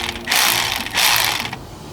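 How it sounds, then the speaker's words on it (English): A socket wrench ratchet tightening nuts on an exhaust heat shield, heard as two loud, close bursts of rapid clicking, each about half a second long, with no voices. "So I was switching between the sockets to get it tightened up"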